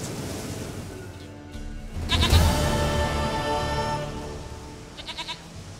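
A goat in The Witcher 3 bleats once, loud and close, with its quavering cry trailing off, followed by a few short faint bleats.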